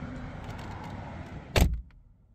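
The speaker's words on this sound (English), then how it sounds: "we will close this door panel with a really solid thunk and listen to how much it deadens the outside noise" The door of a 2018 Mercedes-AMG E63 S sedan shuts with one solid, heavy thunk after a short stretch of outdoor background noise, followed by a sudden hush inside the cabin.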